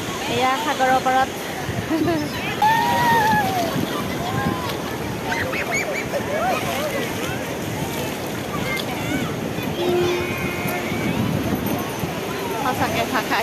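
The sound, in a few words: ocean waves at the seashore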